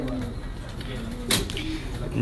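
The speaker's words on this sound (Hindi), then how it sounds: "ये जब तक कबूतर हैं दिखाते रहेंगे आपको" Pigeons coo at a rooftop loft, a steady low murmur running under nearby talk, with a brief louder burst of noise partway through.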